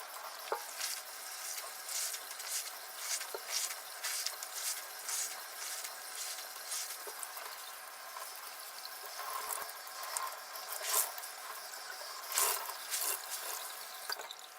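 Ice-dyed fabric from a colander tie-dye project being rinsed and agitated in running water, with steady splashing, sloshing and dripping close by, no voices.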